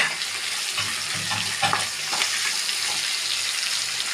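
Sliced onion, about ten crushed garlic cloves and a crushed piece of ginger sizzle in a hot pan, a dense, steady hiss with faint stirring scrapes, close and unbroken, with no talk.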